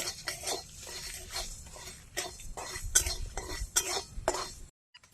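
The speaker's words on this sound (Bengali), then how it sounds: "মশলাটা ভেজে নিলাম, সেটা মিক্সিতে গুঁড়ো করে নেব।" Coriander, cumin and dried chillies dry-roasting in a pan, a run of repeated scraping stir strokes with light clinks of a utensil against the metal, close and moderate, stopping abruptly near the end.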